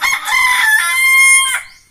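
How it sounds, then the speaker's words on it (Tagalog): A pet fighting rooster of a bare-necked breed crows once, loud and close, in a single drawn-out cock-a-doodle-doo that rises and trails off, with no other sound around it. "Meron silang alagang tandang."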